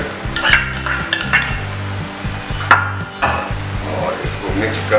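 A spoon scrapes and stirs boiled basmati rice on a hot tawa for pulao, repeated strokes over a soft sizzle, close up.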